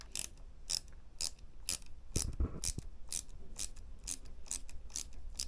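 A small screwdriver driving screws on an Arrma Outcast RC car, a rapid series of sharp ticking ratchet clicks, close and fairly quiet, in a steady rhythm.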